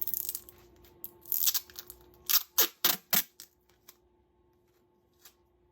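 Several sharp ripping bursts of Dollar General tape pulled from a roll, in a quick cluster, then a faint tap or two in a quiet room.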